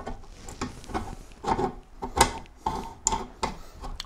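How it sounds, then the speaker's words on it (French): A Maillard 700 bicycle freewheel screwed by hand onto its tool held in a vise, giving irregular metallic rasping and rubbing scrapes in uneven bursts, close and fairly loud, with no talking. "on va venir visser la roue libre sur notre outil"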